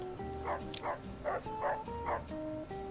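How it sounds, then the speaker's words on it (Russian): A dog in the video game Fallout New Vegas barks five times in a steady, evenly spaced run, moderately loud over a background of game music. "Ты чё лаешь"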